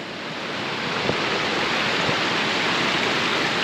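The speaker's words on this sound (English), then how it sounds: "Into the big raging torrent down there" Continuous roaring rush of a big raging mountain torrent in the Brindabella Ranges, loud and unbroken, with a couple of faint low knocks partway through.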